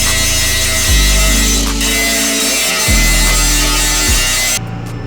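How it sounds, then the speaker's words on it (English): Loud, steady power-tool sanding on a chromoly steel roll cage, its motor pitch dropping and recovering a few times as pressure is applied, with no talking. "This is gonna be a pretty tedious sanding process."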